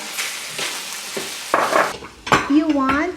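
Vegetables being stir-fried for Filipino pancit bihon, with a utensil scraping and clanking against the pan over a soft sizzle, in short close bursts, and a brief voice near the end.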